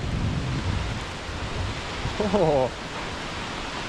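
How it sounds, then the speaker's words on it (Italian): A tall waterfall in a foggy eucalyptus forest near Byron Bay gives a loud, steady roar of rushing water throughout, while someone speaks briefly over it. "Vediamo un po' la cascata."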